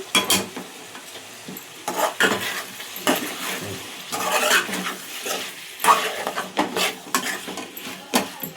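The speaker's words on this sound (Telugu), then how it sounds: "ఇప్పుడు మంచిగా కలుపుదాము." Chicken, potato and chana dal curry stirred in a pan over a low flame, a spoon scraping and clinking against the metal in irregular strokes, with a soft sizzle underneath, close and moderately loud, no talking.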